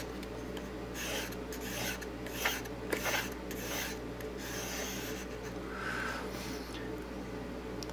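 Knife blade pushed and pulled across a sharpening stone in steady strokes, giving a continuous soft rasping scrape over low background hum, with a couple of slightly sharper scrapes midway.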